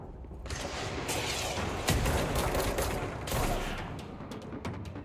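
Sustained enemy gunfire in the video game Control, dense rattling volleys with a few louder sharp cracks, fairly loud and steady over several seconds, with no talking.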